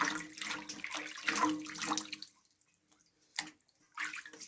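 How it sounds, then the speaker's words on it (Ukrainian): Water splashes and trickles as hands are dipped into a bowl of water while shaping homemade honey bread dough, a busy wet burst for about two seconds followed by quieter drips and two short splashes. "руки мочаємо у водичку"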